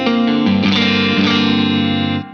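Electric guitar played through a Laney Loudpedal amp on channel 1, slightly breaking up into light, harmonic-rich overdrive; sustained, ringing chords are played close and loud, alone, with a brief re-strike midway before cutting off.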